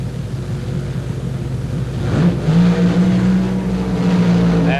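Drag racing cars making a run at the 1976 NHRA World Finals, one with something breaking, a loud roaring engine drone that swells and holds steady, heard from a distance over a rumbling background.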